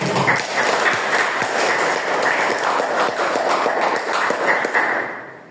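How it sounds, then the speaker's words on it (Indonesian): Classmates give a steady round of applause after a group presentation in a school classroom, many hands clapping densely and continuously for several seconds before tapering off at the end. "Beri tepuk tangannya."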